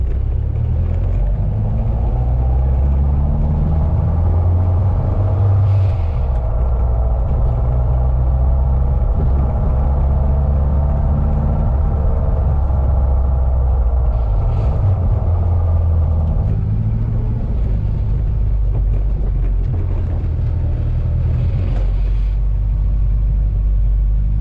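A car driving with a noisy K20 transmission, a loud continuous low rumble and drone with a steady whining mechanical tone above it, close and unbroken for the whole stretch.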